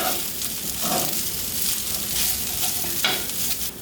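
Kimchi fried rice is stirred in a hot pan on the stove, the spatula scraping steadily through a constant loud sizzle, close and with no talk.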